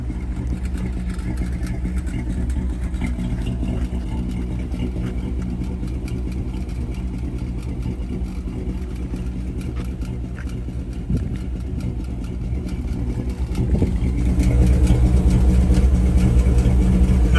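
A 1957 Chevrolet Bel Air engine runs at a steady, rumbling idle, close and continuous, growing slightly louder near the end.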